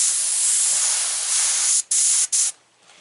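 Steady, close airbrush spray hissing continuously, briefly cut off twice in quick bursts near the end before trailing into quiet.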